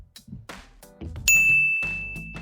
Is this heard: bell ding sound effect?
yes